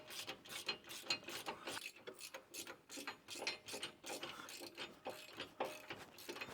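A hand ratchet tightens recovery point bolts on a JB74 Suzuki Jimny, a fast run of close, crisp clicking strokes repeating steadily throughout at a modest level.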